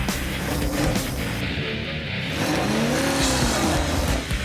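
Drag race car held on the rev limiter at a $200 pass race, then launching: a loud, steady engine roar with wavering pitch and a faint tire squeal, fairly close.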